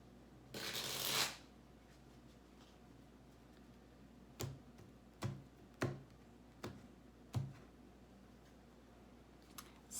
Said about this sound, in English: let me get a couple shuffles into my last deck here